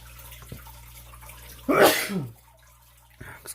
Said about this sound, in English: Had to sneeze. Couldn't hold it in.